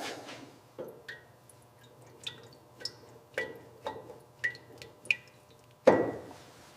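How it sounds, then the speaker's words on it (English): Fuel dripping from a disconnected feed line on a 1960s Mini Cooper S, a series of separate, fairly faint drops falling at uneven intervals, ending with one louder splash. "Stop the drip."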